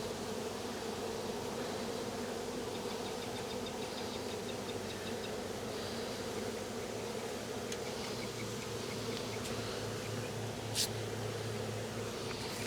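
A caught swarm of honeybees, nestled into a box with the lid on, hums in a dense, steady buzz that holds at an even loudness throughout, close and continuous, with no talking.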